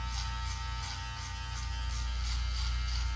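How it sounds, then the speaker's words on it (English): A 7-in-1 electric hair clipper trimmer runs with a steady close buzzing hum, constant and even throughout with slight wavering as it moves, no talking. "I really love this type of trimmer right here"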